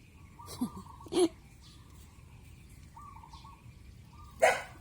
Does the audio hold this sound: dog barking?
yes